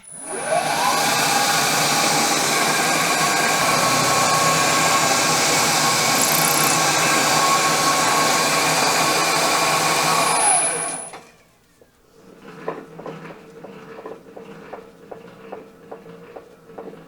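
Cutting a quarter-inch keyway 148 thousandths deep for a 1920 Briggs & Stratton Buckboard Flyer, a machine whines at a steady high pitch for about ten seconds, then stops, leaving softer scattered clicks and taps.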